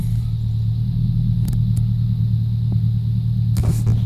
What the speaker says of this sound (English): Car's running a lot better than it did at the shop